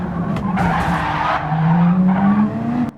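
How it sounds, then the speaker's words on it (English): A police-liveried Porsche race car in Gran Turismo 7 leaves the pits at the Nürburgring with a steady, loud engine drone and rising pitch, tyres squealing and skidding over it, no talk. "his police-issued Porsche leaving the pits"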